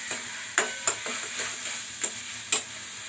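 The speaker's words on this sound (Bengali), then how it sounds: "দিয়ে এবার মশলাটা ভালো করে কষতে হবে।" Spice masala for masala chickpeas is stir-fried in a pan, a soft steady sizzle broken by several sharp scrapes and taps of a spatula against the pan.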